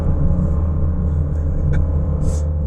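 A 2021 Subaru Crosstrek Sport with the 2.5L engine pulls after a downshift, giving a steady, loud low rumble that holds evenly throughout with no distinct rev spike.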